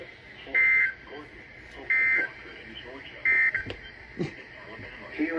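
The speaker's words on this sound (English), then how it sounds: "This concludes the weekly test of the warning alarm system." Emergency Alert System weekly test tone sounds as three short, loud, identical buzzing beeps spaced evenly apart, with a voice speaking faintly between them.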